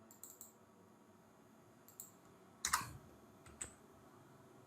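Keystrokes on a computer keyboard entering numbers, each followed by Enter: a few sparse, sharp clicks and a louder clustered press, fairly close, with no talking and little else in the background.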